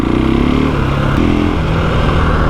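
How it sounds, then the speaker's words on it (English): KTM 500 EXC dirt bike from 2021, with a loud, steady engine note that drops and rises in pitch as it engine-brakes while riding, running continuously throughout. "Lot of engine braking."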